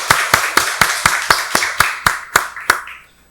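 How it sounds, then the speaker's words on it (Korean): A church congregation at a Sunday worship service claps in unison, about ten sharp, evenly spaced beats in a steady rhythm. The claps sound close and reverberant, and the sound fades after the last one. "박수로 하나님께 영광 돌리겠습니다."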